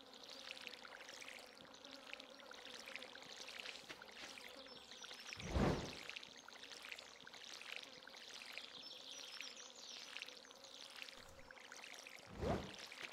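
Soft, steady trickle of water poured from a silver watering can onto crops in the Stardew Valley game, a continuous hiss with two brief louder splashes, faint against a quiet ambient background.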